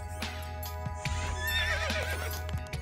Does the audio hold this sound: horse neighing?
yes